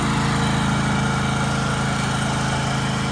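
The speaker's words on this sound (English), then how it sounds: "I'll wait for the lawnmower to go by so you can hear me." A lawn mower engine drones loud and steady throughout, passing close by outdoors with a continuous, evenly pulsing motor hum and no talk over it.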